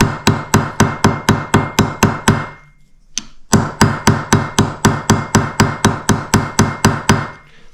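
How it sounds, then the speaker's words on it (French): A riveting hammer taps around the pivot pin of a Capucin knife kit, giving a close, loud run of sharp metallic strikes in a quick even rhythm, with a brief pause midway before the tapping resumes. "donc là on a un marteau à bouterolle pour justement faire un arrondi plus facile. Et là c'est pareil, on va taper en périphérie de l'axe"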